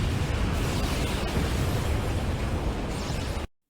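A huge bomb explosion from an anime episode, heard as a loud, dense, rumbling blast that sustains for several seconds before cutting off abruptly into silence.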